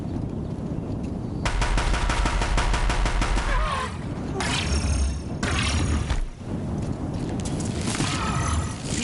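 Deathbringers' guns firing across a bridge in a PS4 game, rapid machine-gun bursts in several loud separated volleys with rumbling booms between them, heavy and close.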